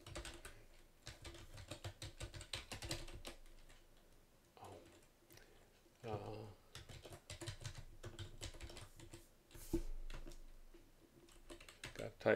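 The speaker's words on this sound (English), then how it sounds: "Got to type this command." A computer keyboard clatters as a command is typed in a Unix terminal, quick light keystrokes in bursts with short pauses, close and fairly quiet, with a voice speaking briefly between them.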